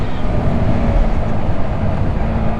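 A Voge R125 motorcycle's 125cc engine pulls up a steep slope in sixth gear, a steady, loud, low drone with wind rush and no break in the sound.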